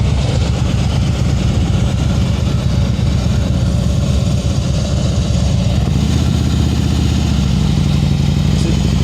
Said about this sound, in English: Open that clutch like you mean it, Deb.